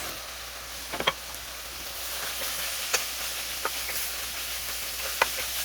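Fried okra and sliced onion cooking over medium heat in a pan give a steady, faint sizzle, broken by a few sharp clinks and taps of a utensil, with no voices.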